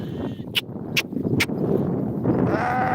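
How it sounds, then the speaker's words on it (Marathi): A ewe bleats several times just after giving birth to a lamb, close and fairly loud over a busy farmyard murmur and shuffling livestock. "आता एक मेंढीने आता एक मुलगा दिलाय बघा आताच झाली डिलिव्हरी"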